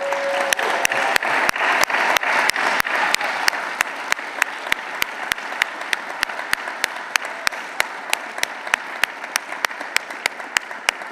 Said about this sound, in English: graduates, if you would give them a round of applause